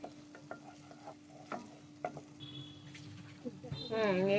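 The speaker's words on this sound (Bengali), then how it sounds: "সবগুলো মশলা ভালো করে কষিয়ে নিতে হবে, মশলার গন্ধটা যেন যায়।" Spices for shrimp bhuna are stirred in a sizzling pan, with quiet frying and periodic scraping strokes before a voice briefly starts speaking at the end.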